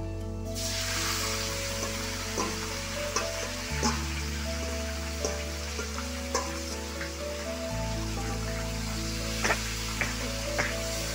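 Chicken pieces frying for pepper chicken in a hot pan give a steady, loud sizzle, with occasional stirring clicks and a low tonal hum beneath, all without talk.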